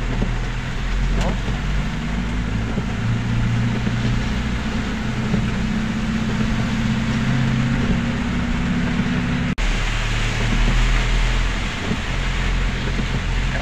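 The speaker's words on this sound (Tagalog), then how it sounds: "Talagang pati itong wiper natin di na kayanin yung ulan." Heavy downpour pounding a car as it drives, wipers struggling, a continuous roar of rain over low engine rumble with a brief break near the end.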